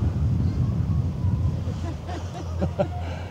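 Wind buffets the deck of an AIDA cruise ship during a sail away, making a muffled, steady rush and rumble. Voices and crowd chatter run beneath it.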